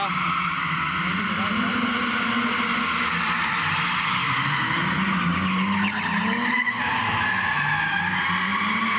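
A drift car at an indoor drift hall in Rīga slides with long, continuous tire squeal over a steady engine roar, the screech rising and bending in pitch as it holds close and loud throughout.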